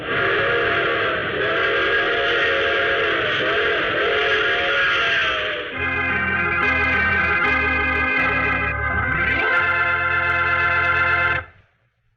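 A steam train sound effect in an old radio drama plays loudly and continuously, with a rumbling chug beneath layered whistle tones that shift in pitch before stopping abruptly.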